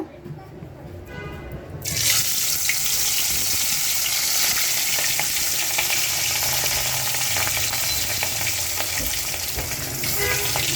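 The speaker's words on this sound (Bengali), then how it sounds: "এখন ইলিশ মাছটা ভেজে নিব।" Hilsa fish frying in a pan with dried red chillies, a loud, steady sizzle and crackle of hot oil that bursts in suddenly and continues without a break, close and dominant.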